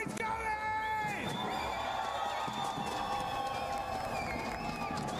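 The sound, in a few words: esports arena crowd cheering in Paris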